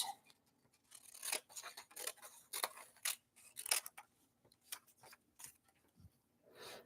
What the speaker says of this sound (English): So I've started to cut out the words that I wrote.